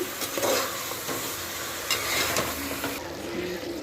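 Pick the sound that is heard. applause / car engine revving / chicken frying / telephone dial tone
chicken frying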